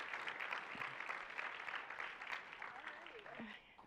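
Audience applause at the Visa Everywhere Initiative 2023 global finals, a dense, steady clapping from a crowd that carries for a few seconds and gently fades.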